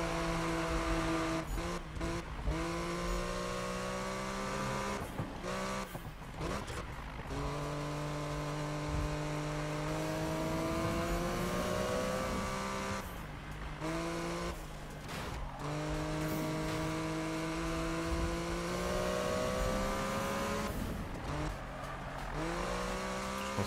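Race car engines in Need for Speed (2015) screaming up through the gears, each rising whine snapping down at a quick shift, repeated over and over at high revs with occasional tire noise, loud and continuous with no talk.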